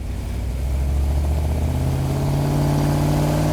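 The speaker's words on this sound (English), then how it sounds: "It's also kind of a cool shot because you can see that engine working down in there." The engine of a 1971 Hemi Cuda runs loud and close while the car is driven. The deep, rumbling drone holds steady and rises slightly in pitch toward the end.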